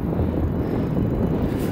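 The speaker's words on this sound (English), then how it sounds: "it's a bit windy" Steady low wind buffeting rumbles against Apple AirPods microphones while cycling, throughout, with no talking.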